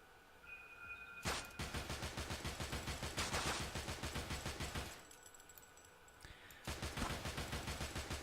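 Rapid automatic gunfire in the video game Dark Matter, long sustained bursts of evenly spaced shots broken by brief pauses, loud and close with no talk over it.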